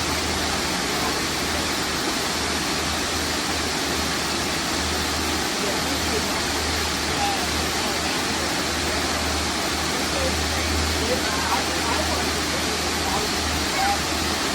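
A large outdoor waterfall roars in a continuous, dense broadband rush of falling water with a steady low rumble, loud and close, unbroken for the whole stretch.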